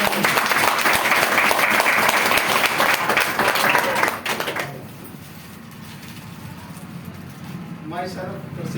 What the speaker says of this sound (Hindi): एक बार डॉक्टर साहब के लिए जोरदार तालियां हैं।